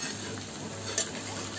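A spice mixture fries in a pan with a soft, continuous sizzle, close and fairly quiet, with a brief clink of a utensil midway through.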